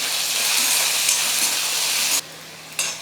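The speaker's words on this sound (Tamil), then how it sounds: "ஒரு வெங்காயம் பொடியாக நறுக்கிக்கிட்டு அந்த வெங்காயமும் சேர்த்துக்கிறேன்." Green chilies and finely chopped onion sizzle in hot oil in a pan, a loud, bright, steady frying hiss that cuts out abruptly for a moment before resuming.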